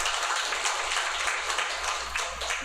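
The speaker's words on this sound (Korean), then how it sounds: "우리 하나님께 영광의 박수를 돌립니다" Congregation clapping during a Sunday morning church service, a sustained, fairly even patter of many hands filling the room with no voices on top.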